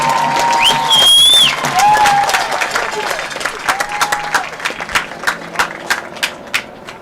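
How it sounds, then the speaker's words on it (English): A crowd at a football game applauds and cheers at a distance for senior players, the clapping thinning into scattered individual claps, with whistles and a voice over a loudspeaker near the start. "Please give one more big round of applause for our senior football players"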